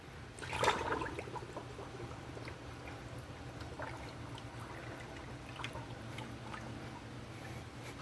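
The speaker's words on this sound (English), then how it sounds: "We'll take it over to the wash bucket and see how the fibers release that dirt." A wash mitt is dunked and rinsed in a bucket of wash water: a brief close slosh near the start, then quiet, steady trickling and dripping.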